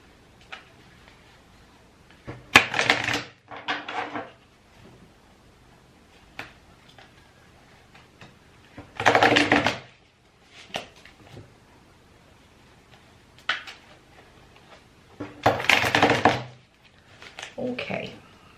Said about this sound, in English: Let's just shuffle them 3 times.